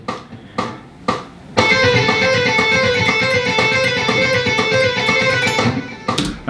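A few isolated string plucks, then a steady run of fast alternate-picked electric guitar notes cycling through a repeating neoclassical metal pedal-point pattern with no talking.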